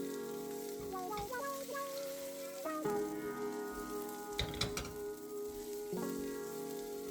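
Vegan patties fry in a pan over medium-low heat, giving a steady quiet sizzle with occasional sharper crackles and spits, close by and alone without talk.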